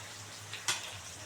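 Sliced onions frying in leftover oil in a pan, a faint, steady low sizzle with one brief sharper burst of crackle near the middle, as if briefly stirred; no voices.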